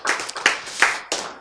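Audience clapping in a few loud, sharp bursts at a lecture, close and uneven, with no voices over it.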